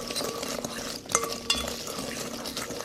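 Ground ginger and cinnamon being stirred into pie ingredients in a bowl, a steady scraping, clattering stir with a couple of sharper knocks, close and moderately loud, with no talking.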